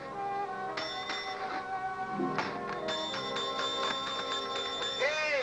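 A bell rings over and over in quick, bright strikes, clanging repeatedly for several seconds with a sharp tone, fairly close and steady.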